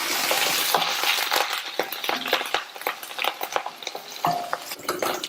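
Curry leaves and cut dried red chillies crackle in a pan of golden-fried ingredients, with quick irregular pops and a few scraping clicks of a spoon against the pan, close and fairly loud, with no talking.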